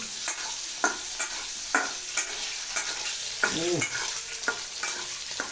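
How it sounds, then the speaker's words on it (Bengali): Quail eggs fry in hot oil in a pan for a tomato dish, a steady close sizzle broken by sharp clicks and scrapes of a spatula at irregular intervals, with no voices. "ডিমটা ভেজে গেলাম এইভাবে"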